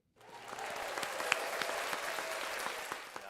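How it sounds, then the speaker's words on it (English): A canned applause effect triggered from a button during a live soccer show rises abruptly into a steady, dense crowd clapping that holds evenly for a few seconds, fairly quiet and without voices. "So, all right, boys, let's give her a clap."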